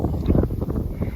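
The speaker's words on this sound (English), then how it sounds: "Oh my gosh, it's windy." Strong wind buffets the microphone at the top of a turn on an outdoor dirt racetrack at a motorsports park, a loud, continuous, gusting low roar with no clear pauses.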